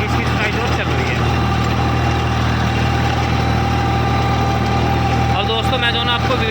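Loud, steady drone of a 50 HP diesel tractor engine ploughing a field, a low continuous rumble that stays constant throughout, with a voice talking over it.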